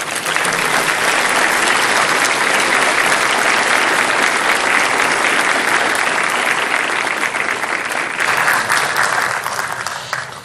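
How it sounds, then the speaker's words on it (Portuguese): Sustained, loud applause fills the Brazilian Senate plenary in honour of General Villas Bôas, a dense roar of many hands clapping continuously without letup. "Portanto, o Brasil lhe aplaude, general Vilas Boas."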